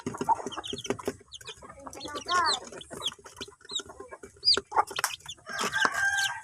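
Chickens cluck and squawk in quick, irregular bursts during a bath, with a rooster crowing partway through. The birds are close and loud, and faint talk sits underneath.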